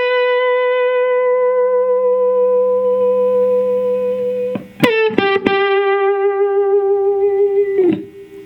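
Electric slide guitar playing a song intro: a held, overdriven note, a quick slide into a new pitch, a few plucked hits and another sustained note ending in a short slide.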